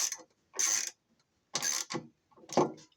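A ratchet wrench tightens a bolt on an LG washer stator in three short bursts of rapid clicking, close and crisp, separated by brief pauses of silence.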